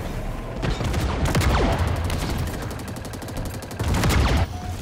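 An explosive gun firing in a video game, rapid bursts of loud gunfire with sharp blasts, hitting hardest near the start and again close to the end over a continuous battle din.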